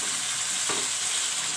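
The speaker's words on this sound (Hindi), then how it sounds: "इसको भी अच्छा सा फ्राई करेंगे" Ginger-garlic paste frying in a pan for chicken karela, a dense, even, close sizzle with one soft stirring swish, brief and without talk.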